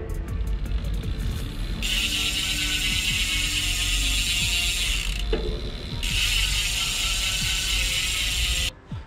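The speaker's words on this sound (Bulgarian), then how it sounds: "Няма да е правилно, ако не чуваме как работи главината." A Whyte T-130 RS mountain bike's rear hub freewheel ratchets in a fast, loud, continuous buzz as the wheel spins close by, with a brief break midway and a sudden stop at the end.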